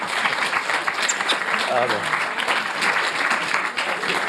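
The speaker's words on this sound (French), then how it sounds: "je voudrais qu'on l'applaudisse." Dense, sustained applause from an audience at an Iranian-themed film evening presentation, steady and loud for several seconds with a brief spoken word over it.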